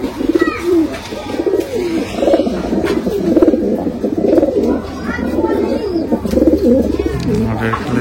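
Rampuri pigeons cooing continuously, close and loud, with overlapping throaty rolling coos throughout and faint background sounds.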